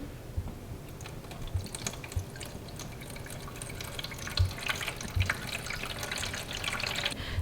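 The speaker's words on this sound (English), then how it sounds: "I'm going to pour some water in." Water pours into the reservoir of an indoor hydroponic garden system in a steady splashing stream with a few louder splashes and drips, close and without speech.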